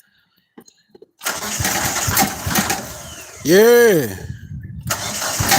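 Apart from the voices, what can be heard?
small gasoline engine pump starting and running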